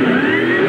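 Ford Falcon XR8 V8 race car engine at the Clipsal 500, revving loudly and steadily in a brief burst as the driver struggles with reverse gear, the close, sustained engine tone filling the clip with no talk.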